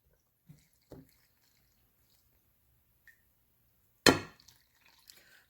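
Water poured into a dry seitan mix makes a short loud liquid splash and slosh about two-thirds of the way through, preceded by a few faint drips and small squishy touches in near silence.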